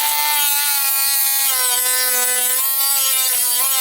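Saw cutting through the chain guard of a 2007 Triumph Speedmaster motorcycle, a loud, close, sustained whine with a steady tone, continuous without pause.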